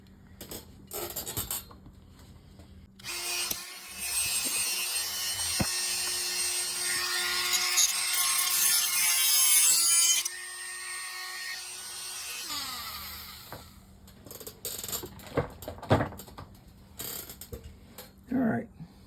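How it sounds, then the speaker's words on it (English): Plastic being cut and scraped away around the base of a Johnson Sprite 200 outboard motor during repair, with a dense stretch of grinding, scraping mechanical noise in the middle, framed by scattered clicks and handling knocks. "Now I just got to cut it off and clean the extra plastic off around the base"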